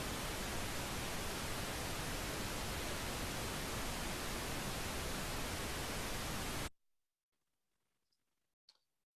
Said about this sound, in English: so that was pink noise still,